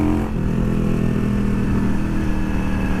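A motorcycle engine fitted with Mikuni velocity stacks and re-jetted carburetion runs steadily close by, holding a loud, even idle-to-mid rev with a strong low throb and no stumbling, alone without talk.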